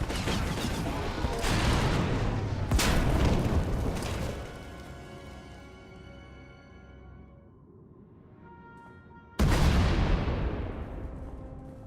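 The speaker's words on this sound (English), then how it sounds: "We heard explosions." Heavy explosions in the Star Wars: The Old Republic video game: several loud booming blasts in quick succession, then a long ringing decay, and another sudden powerful blast near the end.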